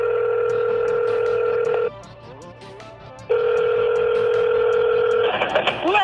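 A telephone rings in two long electronic bursts with a short gap between them, loud and close, from a cryptic phone-call teaser for Six Flags Fiesta Texas.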